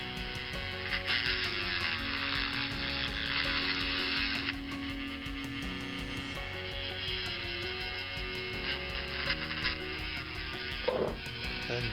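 A cordless Dremel with a drill bit bores out and cleans the headlamp holes on a VW Beetle under restoration, giving a steady high whine that shifts in pitch as the tool bogs and recovers, close and moderately quiet.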